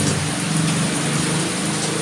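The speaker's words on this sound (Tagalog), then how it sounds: "magaguros na po ang hangin po at ang ulan." Heavy typhoon rain pours steadily with a constant wind-driven roar, dense and unbroken throughout, during landfall in Placer, Masbate.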